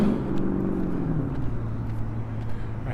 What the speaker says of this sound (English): I have little patience for cars that sound like that.